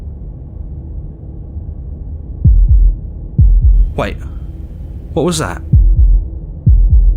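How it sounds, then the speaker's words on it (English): Heartbeat in the video game Slay the Princess, slow deep thumps in pairs repeating every second or so, loud and close, with a voice speaking briefly over a faint hum between beats. "That was the sound of a heartbeat"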